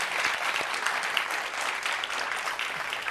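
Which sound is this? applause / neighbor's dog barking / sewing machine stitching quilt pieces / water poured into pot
applause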